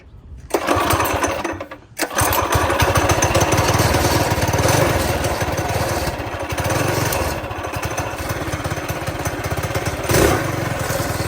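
Coleman BT200X mini bike engine with a newly installed carburetor running loud and close, a continuous buzzing drone after a short cutout near the start, with slight surges in pitch.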